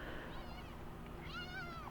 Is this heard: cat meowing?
yes